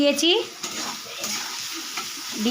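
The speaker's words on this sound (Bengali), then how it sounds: "এই তেলের মধ্যে পেঁয়াজ দিয়ে দেব" Onion frying in oil left over from fried pomfret, a close sizzle with stirring scrapes of a spatula in the pan and a brief squeaky tone at the start.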